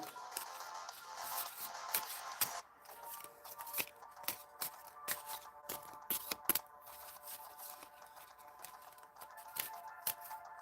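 A deck of playing cards shuffled gently by hand during a live stream, soft riffling and light shuffling with scattered crisp snaps, close and fairly quiet, with no talk over it.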